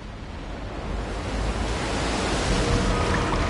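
A giant ocean wave in the Outlast 2 video game: a broad roaring rush of surf that swells louder over a few seconds and holds steady, with no voices.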